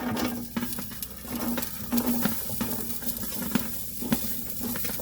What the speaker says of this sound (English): Now we're going to put in our wonderful diced onions.